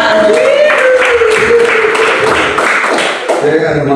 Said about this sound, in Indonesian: Suka cita berikan tepuk tangan.